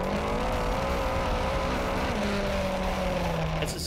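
Speedcar midget race car with a stealth chassis and a US-built Toyota TRD engine driving at Parramatta, a loud continuous engine drone that stays steady, then slides gradually lower in pitch.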